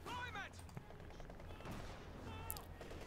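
Sniper rifle shots crack out among scattered gunfire in a World War II battle in the video game Company of Heroes 2, with sharp reports over a busy, low-level battle din.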